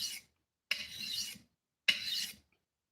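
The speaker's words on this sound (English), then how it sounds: "I don't like switching hands and sharpening a curved thing" Three slow, even rasping strokes scrape a curved blade across a sharpening surface, each a short gritty rub separated by brief pauses.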